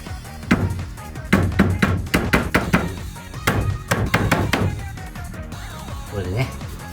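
A cut timber beam standing in for a floor support beam is struck repeatedly to knock it into alignment, producing a series of loud, close thunks in uneven clusters, with someone talking in between the blows.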